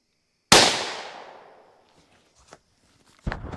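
One sharp, loud gunshot from a .22 Magnum varmint rifle cracks in a backyard and rings out, followed by faint handling clicks and a second short clack near the end.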